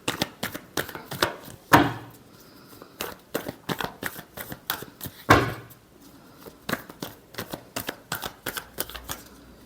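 Tarot cards shuffled by hand in repeated quick riffles and snaps, a burst of crisp papery clicks with two louder slaps, close and alone.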